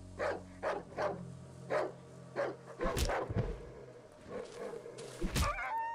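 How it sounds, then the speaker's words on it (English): A large dog in the horror video game Darkwood barks repeatedly in a steady rhythm of loud, close woofs, followed by heavy thuds and scuffling impacts. "Large dog."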